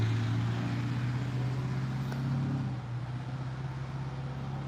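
Car traffic on a road, heard as a steady, continuous engine and tyre hum at moderate distance that eases slightly partway through, with no talking.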